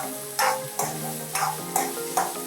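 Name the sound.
onion sautéing and stirred in a pan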